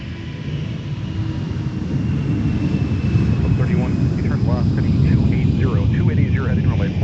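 A Delta airliner departs runway 4 at Minneapolis–St. Paul airport, its engine roar swelling steadily over several seconds from a distance, with a rising whine and an air traffic controller's radio voice over it.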